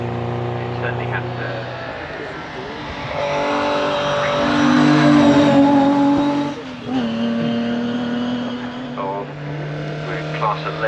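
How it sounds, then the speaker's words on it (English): Heavily modified Saab 96 V4 racing up the Shelsley Walsh hill climb, its engine droning and rising in pitch as it accelerates, then dipping and revving again while a commentator talks over it. "Here is then a Saab 96 V4."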